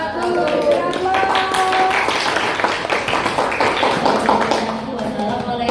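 Classroom applause for a student group after a presentation, steady clapping from a small group of students mixed with voices and chatter throughout, fairly close and lively.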